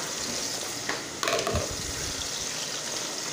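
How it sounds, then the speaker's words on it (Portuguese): Three eggs dropped into a hot pan hiss into a steady close sizzle, with a brief sharper crackle as they land, then a continuous fry noise over faint kitchen background. "E agora eu vou colocar ali, ó, 3 ovos, ó. E vou deixar eles começarem a cozinhar."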